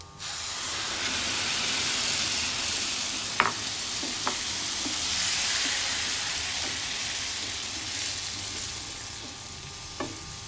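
Ground tomato fries in oil with chili powder while being stirred, giving a continuous close sizzle and hiss broken by a few sharp spoon clinks and scrapes against the pan.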